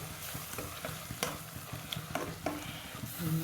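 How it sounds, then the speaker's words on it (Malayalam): Garlic paste is stirred into a bitter gourd stir-fry, with a soft steady sizzle in the pan under scattered scrapes and taps of the spoon, close and fairly quiet, no talking. "ഇത് നല്ലോണം ഇളക്കി കൊടുക്കുക."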